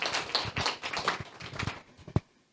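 Brief, thin applause from a small audience at an International Women's Day gathering, a few seconds of scattered claps that taper off and end with one sharp final clap.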